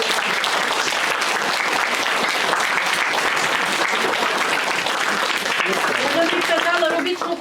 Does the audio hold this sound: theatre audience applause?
yes